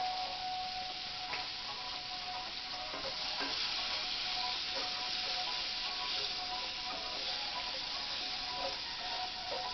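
Onions seasoned with salt and garlic powder fry in a pan for liver and onions, a continuous even sizzle with small pops and occasional stirring ticks, no voices.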